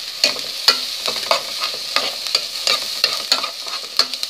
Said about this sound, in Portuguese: Vamos colocar o alho agora, certo? Dá uma refogadinha no alho aí.